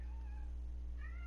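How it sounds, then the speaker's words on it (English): A domestic cat meows faintly over a loud low electrical hum, a short rising cry that trails off as the animal walks away. "He's meowing and walking away."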